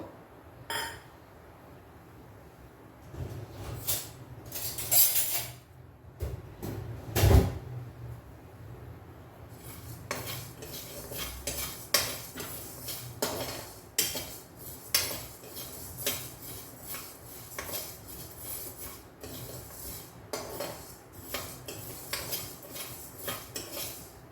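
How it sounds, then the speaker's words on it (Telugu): Coriander seeds dry roasting in a kadai on a stove, stirred with a metal spoon that scrapes and clinks against the pan in irregular bursts, up close, with quiet gaps between rounds of stirring. "ఫస్ట్ ఇవి వేయించేసుకుందాము డ్రై రోస్ట్"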